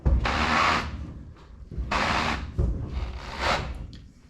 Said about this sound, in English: close the door here